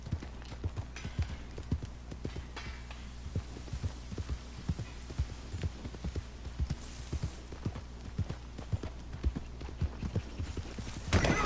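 Horse hooves clip-clop in Red Dead Redemption 2 in a steady, regular rhythm of sharp thuds over a low hum, fairly quiet and continuing throughout.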